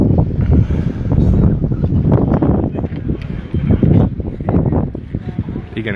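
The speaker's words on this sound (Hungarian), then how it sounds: "itt írják, hogy nagyon fúj a szél, alig hallani" Strong wind buffeting a microphone outdoors at Kossuth Square in Budapest, a loud continuous rumbling roar that masks a voice talking underneath.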